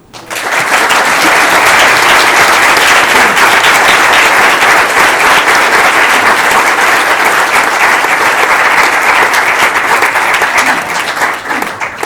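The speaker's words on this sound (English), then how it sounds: "could we have a round of applause?" Loud, sustained applause from a large audience at a talk event, a dense wash of clapping that holds steady for about twelve seconds before tapering slightly at the end.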